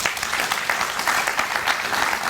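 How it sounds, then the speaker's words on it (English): Audience applause at a Boy Scouts of America distinguished citizen award reception, a dense steady patter of many hands clapping at fairly close range, sustained throughout with no talk over it. "Let's give her a round of applause."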